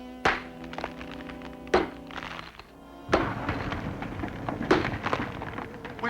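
A few heavy, hollow thunks of a pick striking a wall, spaced a second or so apart, with rumbling scraping and shuffling between blows.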